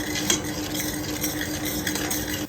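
A spicy seafood boil of jumbo prawns and squid being stirred after salt and pepper go in, a continuous close scraping and swishing in the pot over a faint sizzle, without talk.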